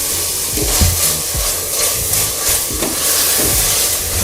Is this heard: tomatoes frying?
yes